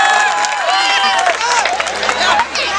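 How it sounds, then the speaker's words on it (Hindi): An audience at a Hindi comic poetry (hasya kavi) event claps and cheers together, making a steady wash of applause and crowd noise that holds for a few seconds with voices mixed in. "तो बजाओ सर एक बार जोर से ताली"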